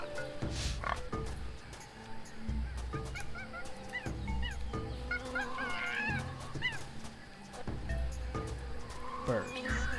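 A bird squawks and honks amid dense jungle ambience in the video game Monkey Island. Several chirpy, goose-like calls rise in the middle over the steady loop of animal noises.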